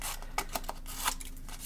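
Scissors snip through a sticker sheet, several quick close crisp cuts in an uneven rhythm, heard alone and fairly quiet.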